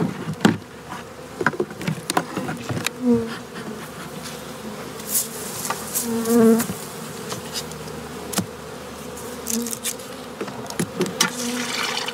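Honey bees buzzing steadily around a hive while being fed early-spring patties and syrup, a dense close drone of many insects with individual bees passing near, no talking.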